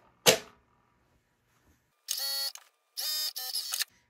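Sewing machine stitching a shirt dress seam, two short bursts of rapid mechanical whirring after a sharp click, close and clear with quiet gaps between.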